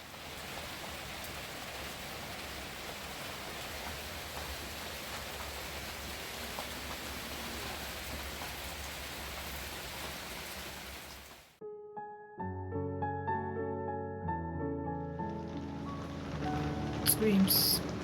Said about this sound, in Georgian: წვიმს.